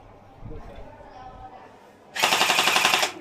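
A gel blaster toy gun styled like an M4A1 assault rifle fires a fast burst of gel bullets for about a second, loud and rattling, after a stretch of quiet talk and handling.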